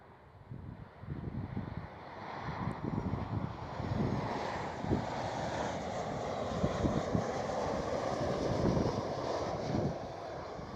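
A KLM Boeing 737 passing at Amsterdam Schiphol airport, its jet engines building into a loud rumbling roar with wind buffeting the microphone, sustained and swelling over about ten seconds with no speech.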